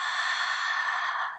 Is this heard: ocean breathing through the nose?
yes